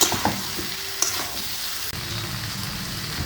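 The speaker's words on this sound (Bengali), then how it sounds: "তো এর উপরে আমি ভেজে রাখা লাউ আর আলুটা দিয়ে দেবো। দিয়ে ভালো করে কষিয়ে নেব।" Fried bottle gourd and potato being stirred into a sizzling spice paste in a pan, with scraping stir strokes and clinks over a constant frying hiss.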